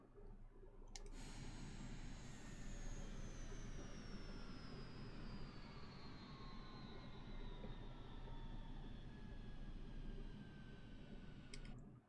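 A Cirrus Vision Jet in Microsoft Flight Simulator 2020 shuts down: a steady, faint turbine whine slowly descends in pitch over a constant low rumble, bracketed by soft clicks at start and end.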